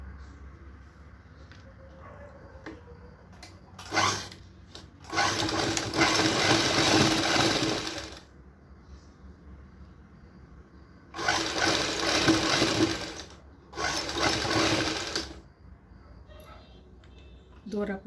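A sewing machine stitches a blouse seam in two long bursts of steady whirring, each lasting a few seconds, separated by quiet pauses with faint handling sounds, close by.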